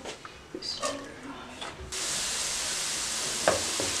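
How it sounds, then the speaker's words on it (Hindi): Onions dropped into about half a cup of hot oil in a pan, a sudden loud hiss that settles into a steady sizzle, following brief handling noises. "अब मसाला बनाने के लिए पैन ले लें और उसमें तकरीबन आधा कप बराबर ऑयल डाल दें, प्याज डाल दें"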